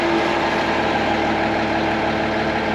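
Fire engine Engine 110 sitting started and idling in neutral before pump gear is engaged, a steady low diesel rumble and hum holding evenly and fairly close throughout.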